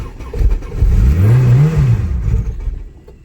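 A built turbocharged LSVTEC engine running on E85 revs on a cold start, a loud close rising and falling rev held for about a second and then dropping back toward a rough idle.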